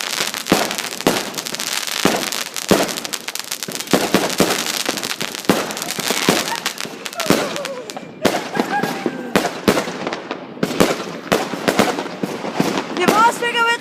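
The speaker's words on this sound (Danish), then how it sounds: "Det er vores fyrværkeri!" Fireworks and firecrackers go off on New Year's Eve in Denmark, a dense, loud barrage of sharp cracks and bangs in rapid irregular succession, with people talking and shouting over the noise.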